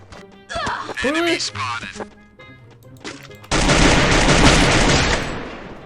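Gunfire in the Free Fire video game: excited voices talk at first, then a loud, dense burst of rapid shots takes over and runs continuously for a couple of seconds before easing slightly.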